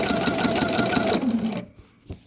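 A sewing machine runs steadily along a quilt seam at a quarter-inch allowance, a loud continuous whirring stitch that stops abruptly partway through, followed by a couple of soft handling taps.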